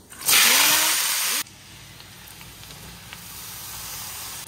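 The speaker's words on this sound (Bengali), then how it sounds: "তেলের মধ্যে গোটা শুকনো লঙ্কা আর কালো জিরা।" Whole dried chillies and nigella seeds hit hot oil with a sudden loud burst of sizzling that lasts about a second, then drops to a quieter, steady crackle.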